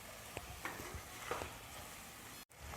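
Vegetables, peanuts, green chili and sugarcane pieces tossed together in a pan for a traditional Bhogi bhaji, soft scraping stirs and a faint sizzle, quiet and close with a brief dropout near the end.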